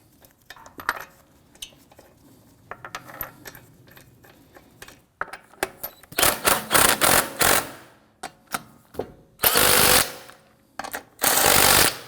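A 2001-2009 Volvo S60 front right CV axle has its bolts snugged down with a power tool: several loud, close bursts of rattling mechanical whir separated by short pauses and softer clicks, no talking.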